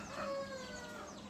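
A short, close call from an agitated, lively crested rooster offered for sale: a sustained, slightly wavering harmonic cry lasting just over a second, heard alone without talking.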